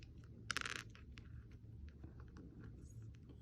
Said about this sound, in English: let's see how many centimeter cubes we can line up along the length of my pencil box.